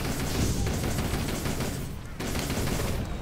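Dense, continuous bursts of automatic gunfire and booming shots from a World War I trench battle in the video game Toy Soldiers: HD, loud and relentless, with a brief dip before the barrage resumes.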